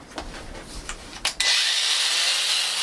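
A granite edge being polished with a 150 grit pad gives off a loud, steady grinding whine that starts abruptly after a few brief scraping touches, then holds on continuously without a break.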